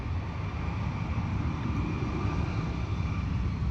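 An EasyJet Airbus A320 airliner takes off at London Luton Airport in wet, windy weather, a steady broad jet roar heard from a distance, continuous throughout without talk.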